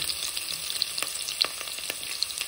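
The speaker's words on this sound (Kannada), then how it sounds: "ಸ್ವಲ್ಪ ಕೆಂಪು ಹುರಿದಾದ್ಮೇಲೆ ಈಗ ಈರುಳ್ಳಿ ಹಾಕ್ತೀನಿ" Onions sizzling and frying in ghee in a pan, added after cashews were fried until reddish, for hesarubele bath; steady close crackling hiss with occasional stirring pops, no talk.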